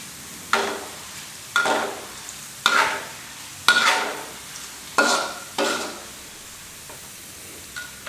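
Pork and garlic deep-fry slowly in oil, a continuous soft bubbling sizzle broken by six regular bursts of louder stirring or scraping, roughly one every second, close and without talk.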